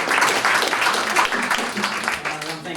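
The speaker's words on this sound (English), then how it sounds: "So I think we should all give him a round of applause" An audience at a talk applauds, dense and fairly loud, easing off slightly toward the end, with some voices mixed into the clapping.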